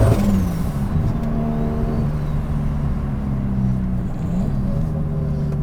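720bhp three-rotor swapped Mazda RX7 under way, a loud, steady, close engine drone with shifting tones as revs rise and settle, heard from inside the car with no voices.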